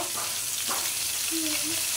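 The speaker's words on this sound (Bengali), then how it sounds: "আর এই যে মাছ ভালো করে এখন ভাইজে নিতেছি" Turmeric- and salt-rubbed fish frying in hot soybean oil in a kadai, a steady close sizzle throughout with faint stirring.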